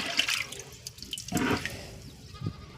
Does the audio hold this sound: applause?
no